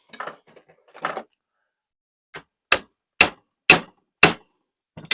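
A hammer taps on a metal part of a break barrel gas ram airgun, four sharp, ringing metallic strikes in steady rhythm, close and loud, after some quieter rustling and handling noises.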